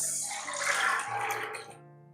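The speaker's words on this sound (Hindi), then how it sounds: "पानी भी साथ डालेंगे" Water pours steadily into a kadai of chickpeas with a bright splashing rush that tapers off after about two seconds.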